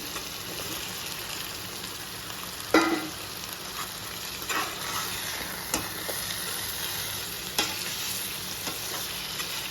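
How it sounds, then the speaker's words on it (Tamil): Elephant foot yam with masala fries in hot oil under a steady, close sizzle. Occasional stirring scrapes and soft pops break through the sizzle. "நல்லா ஃப்ரை பண்ணிடணும்."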